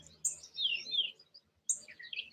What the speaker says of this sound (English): The birds are really singing today, too.